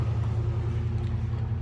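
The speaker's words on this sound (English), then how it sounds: "and excuse the car." A car rumbles past nearby outdoors, a steady low engine drone holding for a moment without any talk.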